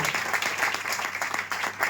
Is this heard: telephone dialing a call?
no